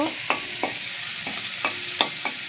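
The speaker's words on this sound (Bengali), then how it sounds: "আর এই যে পেঁয়াজটা ভাঙতে হচ্ছে খুন্তি দিয়ে।" Onions being stirred and broken up with a metal spatula in a hot wok, steady frying sizzle underneath with sharp scraping strokes roughly every half second, close and alone.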